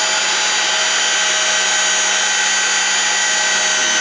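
A half-inch pipe being threaded with a power pipe threader gives a loud, steady mechanical whir and grinding drone, continuous and close, with no talking.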